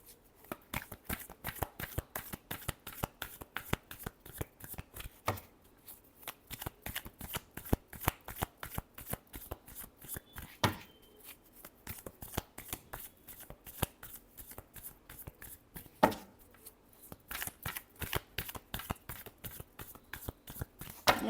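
Tarot cards shuffled by hand in a steady, rapid run of crisp riffling flutters, close and continuous with a few brief pauses, no talking.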